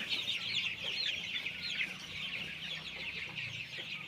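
Many Sonali chicks, nineteen days old, cluck and chirp together in a poultry shed, a dense, continuous chatter, moderately quiet and somewhat distant, without any talking.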